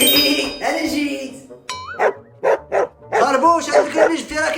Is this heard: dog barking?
yes